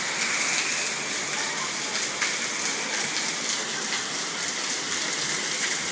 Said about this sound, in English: It's raining in Devon.